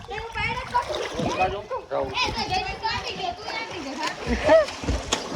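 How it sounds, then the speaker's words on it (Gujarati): Water splashes and churns repeatedly in a resort swimming pool as children shout and talk excitedly nearby, the splashing rising and falling under their voices. "પાણી ઉડાડ માં"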